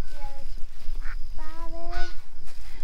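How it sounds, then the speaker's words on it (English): A mother duck sheltering with ducklings under a structure gives several loud, nasal honking calls in short bursts, close by, with faint rustling between them. "There's ducklings. I hear them."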